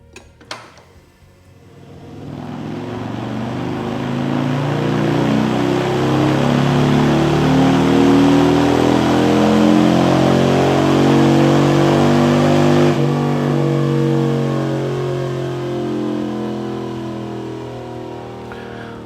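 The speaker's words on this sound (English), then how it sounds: "we're going to start and do just a small amount of tuning at wide open throttle and see what kind of gains we've made with these changes" A Harley-Davidson motorcycle on a dyno at wide open throttle, its engine roaring up through a long sustained rev, loud and close, then easing off near the end.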